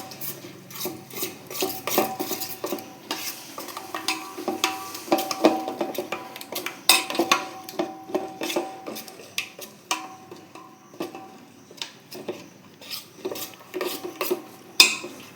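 Hog plum pickle being stirred and mixed with mustard oil in a bowl, giving a steady run of soft wet scrapes and light clinks of a utensil against the dish, close and unaccompanied by speech.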